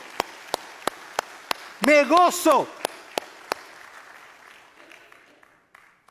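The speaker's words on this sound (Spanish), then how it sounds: "Dale un fuerte aplauso a Él." Church congregation breaks into a short, loud burst of applause after a series of sharp single claps, while someone speaks in a raised preaching voice just before and during it.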